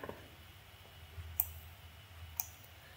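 A computer mouse gives two faint, crisp clicks about a second apart, close up against a quiet room hum.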